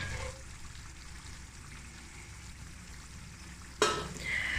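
Spices and yogurt frying in a pan as they are stirred together, a soft steady sizzle at low level, then a sudden sharp scrape or clatter near the end followed by a slightly louder hiss, with no speech.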